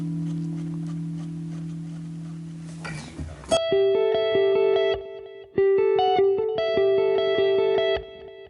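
An electric guitar with a clean tone on a Line 6 Helix plays after a burst of noise: repeated bright notes echoing with delay feedback around 50 percent under a high cut, ringing out in steady phrases, close and loud.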